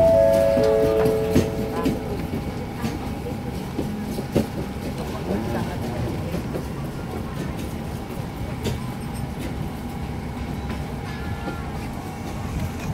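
A train at Rangsit railway station in Thailand rumbles and rattles steadily at moderate volume, with a brief horn-like tone at the start and faint voices in the background.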